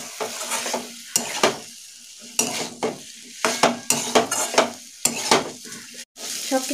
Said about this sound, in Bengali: এর মশলার সাথে একটু কষে নেব।